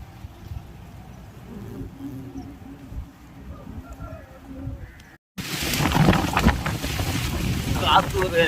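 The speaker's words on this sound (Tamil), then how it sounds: "காற்று ஒரு வரைக்கும் வேகமாக அடிக்குது." Strong, loud wind gusting outdoors near palm trees, roaring broadband and buffeting the microphone, surging up sharply midway after a quieter, steadier stretch of rushing air.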